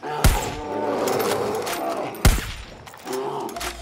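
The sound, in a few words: sniper rifle shots in video game Far Cry New Dawn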